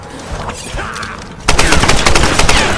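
Rapid gunfire from the video game Tomb Raider erupts loud and close after a quieter stretch of game noise, a dense burst of repeated shots in quick succession.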